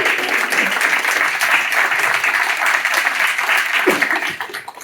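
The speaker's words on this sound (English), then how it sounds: "Big round of applause for our guest," A live convention audience applauds a guest with sustained, dense clapping that stays loud and steady before tapering off near the end.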